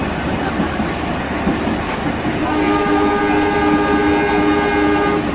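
A freight train carrying shipping containers passes close by on an Indonesian railway at night, a loud continuous rumble and rattle with a sustained horn tone joining partway through.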